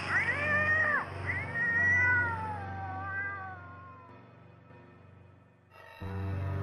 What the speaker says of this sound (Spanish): y a los espectros de Mera y Jarandar, siendo perseguidos por un tropel fantasmagórico de gatos momificados.